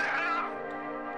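A cat named Kiki meowing in the video game Gato Roboto, a single clear, drawn-out meow that starts bright and tails off into a softer held tone.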